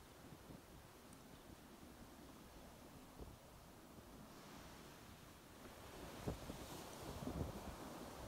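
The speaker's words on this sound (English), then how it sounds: "bring your attention to the movement and sound of the water" Ocean waves wash onto a beach in a steady, soft roar mixed with wind noise, with a couple of louder surges near the end.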